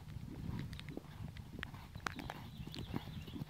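A ridden horse moving around an arena, with soft, fairly faint hoof falls in an uneven rhythm over a low, steady background.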